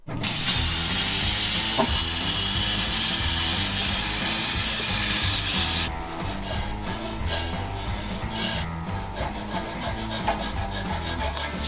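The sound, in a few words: cutting out a circular piece with a saw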